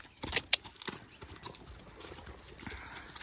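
Horses walk and jostle at feeding time. Their hooves clip-clop close by in an uneven, shuffling rhythm with a couple of sharp knocks early on, and faint rustling runs in the background.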